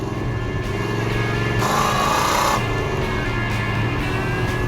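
A 1969 Dodge Super Bee V8 with 390 horsepower and 1,350 CFM carburetors accelerating hard, a loud close engine roar that swells as the carburetors open, then settles into a steady drone.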